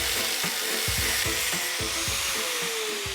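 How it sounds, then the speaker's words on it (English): Counterweights cut off a metal 3D-printed crankshaft with a power tool, a loud steady whine with rhythmic grinding pulses and a gradually falling pitch near the end. "So what I can do is cut off the counterweights."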